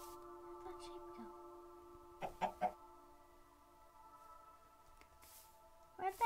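A chicken in the Minecraft video game clucks in a quick cluster of three short clucks and again at the end, faint over a steady tonal game hum.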